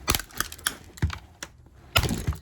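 HDPE plastic pieces being ripped and pried off, a run of sharp cracking snaps and clicks in irregular bursts, loudest at the start and near the end, with no talk.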